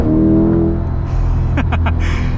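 A Chevy C8 Corvette Convertible's engine revs up close, a deep rising growl with a strong rumble that holds steady, broken by a few brief sharp bursts near the end.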